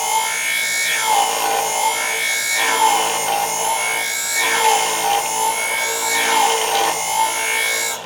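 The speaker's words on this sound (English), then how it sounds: "I'm going to do my polishing on my actual cutting edge to start with" A left hand shear's cutting edge is worked against a polishing wheel with a steady whir, rising and easing in repeated strokes about once a second, close and loud with no talk.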